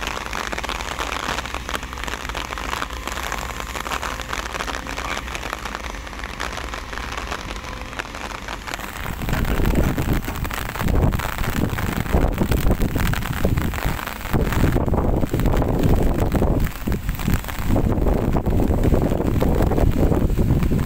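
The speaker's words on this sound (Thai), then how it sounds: "เริ่มมาแล้วพอฝนมาลมก็เริ่มมาด้วย" Rain and wind sweep over a worksite where excavators load pickup trucks. A steady close hiss of rain turns heavier and gustier partway through, with loud buffeting wind noise and no talk.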